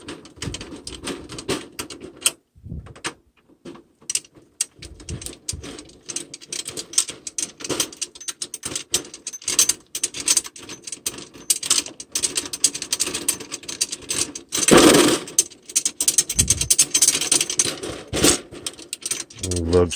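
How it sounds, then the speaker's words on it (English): Speed key spinning lug screws off a Ludwig snare drum, giving close ratcheting clicks and metallic rattling of loosened screws, irregular and busy throughout, with a brief louder clatter partway through. "We're going to take our speed key here and start removing some of these screws, lug screws"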